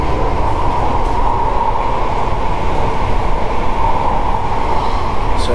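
Inside a quiet, air-conditioned passenger train in Hong Kong's Kowloon, a steady, loud rumble of wheels and ventilation hum runs unbroken, with no talk.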